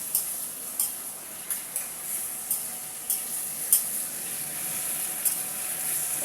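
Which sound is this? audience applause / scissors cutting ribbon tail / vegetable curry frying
vegetable curry frying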